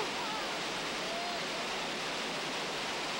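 A river in New Zealand, with rapids and a waterfall that has a strong whirlpool below it, roars as a dense, constant rushing wash, loud and close, with no break in the sound.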